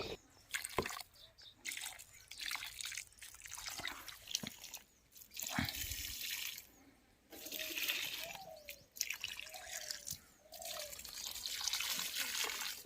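Fish amino water is poured onto rose plants in a garden, with faint, intermittent splashing and dripping in uneven bursts separated by short pauses.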